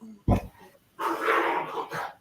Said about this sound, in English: hearing my dogs fighting in the background